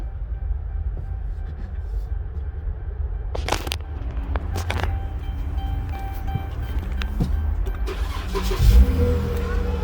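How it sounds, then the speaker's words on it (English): A Dodge Charger with a frozen fuel pump rumbles at a low, steady idle, with brief clanks and a small surge of engine noise near the end, heard close in a quiet space. "let's turn on the car before we do that."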